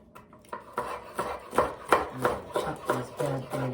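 Celery being chopped with a knife on a cutting board for a Greek salad with arugula and tomato, a steady series of about ten crisp, close knocks in an even rhythm.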